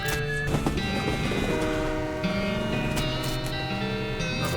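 Train ambience from the video game West of Loathing, a steady rumbling rail run with sustained tonal hum and clatter filling the scene, loud and continuous throughout.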